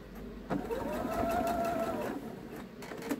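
A sewing machine back stitching during quilting, a close, steady mechanical whirring hum that runs for a couple of seconds, with soft clicks at its start and end.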